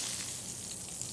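Chicken sizzling skin side up in a cast iron skillet for Filipino chicken afritada in a home kitchen, a steady, close crackling hiss of frying with no talking.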